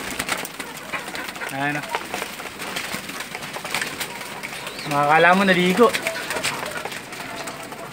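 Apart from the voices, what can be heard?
pigeons cooing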